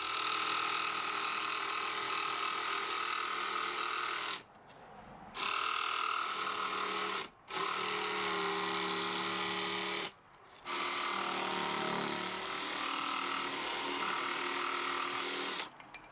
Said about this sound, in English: Then cut this row to size with your jigsaw.